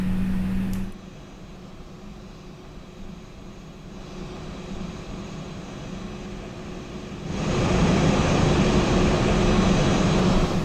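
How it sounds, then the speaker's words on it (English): Airbus A320 engine spooling up during start in X-Plane 11, a steady broadband whine and roar that drops after a brief cockpit hum, holds level, then swells louder as the engine gains speed, with no talk. "we have a good start on the first engine"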